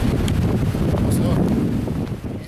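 Wind on a rainy, windy day in Torres del Paine buffets the microphone with a constant loud, low rumble and gusting roar, and a voice talks underneath.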